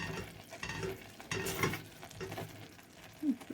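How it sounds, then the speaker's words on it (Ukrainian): A spatula stirring agar-agar sugar syrup as it boils in a pot toward the thread stage, with soft scraping and a low bubbling sizzle and a few louder scrapes against the metal, close by and with no voice. "Ретельно його помішуємо."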